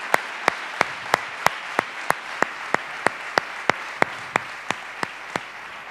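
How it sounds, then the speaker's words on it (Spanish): Single steady handclaps repeat at an even rhythm, about three per second, sharp and distinct against a quiet background, with no voices, at an event honoring Cruz Novillo's grandchildren. "Un aplauso para los nietos de Cruz Novillo"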